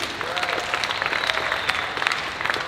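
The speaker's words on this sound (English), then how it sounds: "Clap your hands if you live in Jersey City." Crowd clapping at a comedy roast of Jersey City's mayor, scattered yet continuous applause from many hands with a few sharp individual claps standing out.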